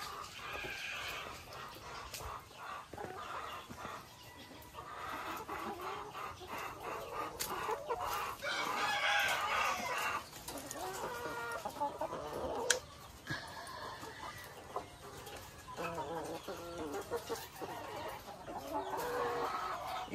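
Laying hens in an egg layer farm's cages cluck and squawk continuously, a dense flock chorus with a rooster's crow and a distant dog bark mixed into the steady noise.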